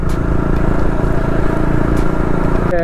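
A KTM Duke 250 motorcycle, BS4 model fitted with new tyres, is ridden on a road. Its engine drones loud and steady for the whole clip, with wind and road rumble mixed in and no talk.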